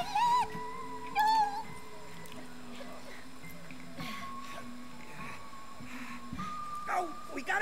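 A cat in the co-op video game It Takes Two gives a few short meows early on, followed by game noises and background talk from players.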